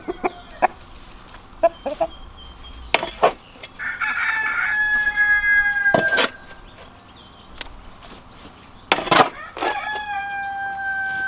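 A rooster crows several times nearby, long strained calls interspersed with sharp clucks and short bird noises, with no talking.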